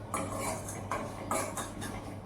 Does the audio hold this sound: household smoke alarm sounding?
no